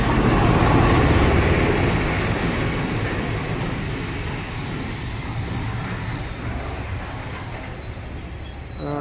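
A train rumbles loudly nearby, wheels grinding and rattling on the rails, the roar gradually easing as it slows.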